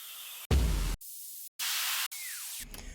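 White noise effect from a sample pack: bursts of hissing static noise, each cut off sharply, some with the low end removed and one with a falling filter sweep. They come in choppy, evenly spaced blocks with brief silences between them, and there is no talk.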